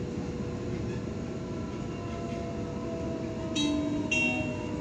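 A Sydney Waratah electric train running toward Parramatta, a steady low rumble and hum inside the carriage, with brief high tonal chimes near the end.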